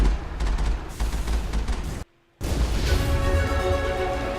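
Rapid sustained gunfire in Mass Effect 1, a dense continuous burst that cuts out abruptly for a moment of near silence, then resumes just as loud and steady.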